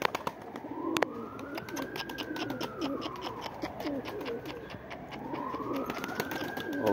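Tumbler pigeons flock and flutter outdoors, with rapid wing claps and soft cooing while a siren wails up and down in the distance.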